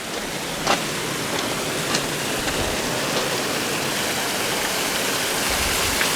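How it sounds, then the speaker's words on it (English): Water pours steadily from a waterfall and splashes over rocks at Top of the Rock, a loud, continuous rushing wash heard up close with no voices over it. "I'm gonna stand in front of the waterfall"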